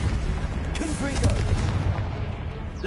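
Booming blast effects from the Confringo fire spell in Hogwarts Legacy rumble alongside whooshing magic sounds, with a voice talking over the steady, dense action.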